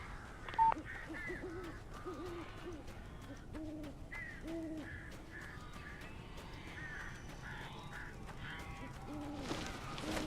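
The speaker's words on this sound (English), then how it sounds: "These birds are weird." Birds in the video game Alan Wake give harsh, crow-like caws over and over, scattered across a steady eerie ambient background, with no voices.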